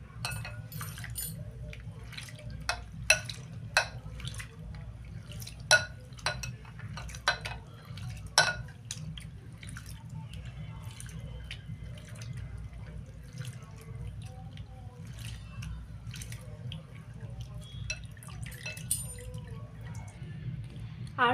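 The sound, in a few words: rinsing flattened rice (poha) with water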